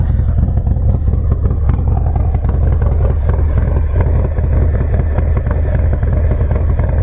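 A custom Stage III Harley-Davidson Sport Glide with a performance cam idles close by, a loud, steady, deep loping rumble that carries on without a break.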